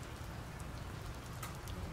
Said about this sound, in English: Oh man, what rain out there.